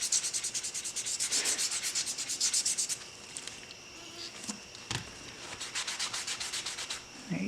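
Rapid back-and-forth scraping of a clogged sharpening stone in a machine shop workshop, a steady rhythmic rubbing that is louder in the first three seconds, then lighter with a few soft knocks.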